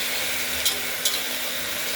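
Moong dal fries in oil inside a pressure cooker, giving a steady close sizzle with a couple of brief sharper scrapes of stirring partway through.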